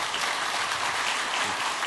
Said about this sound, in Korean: 잠시 자리에서 일어나 주시고 인사해 주실 때에 박수로 환영하겠습니다.